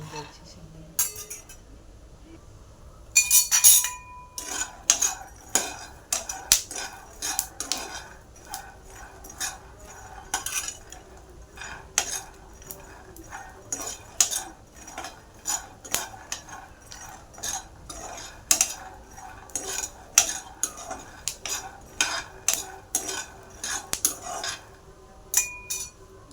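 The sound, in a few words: roasting peanuts in a pan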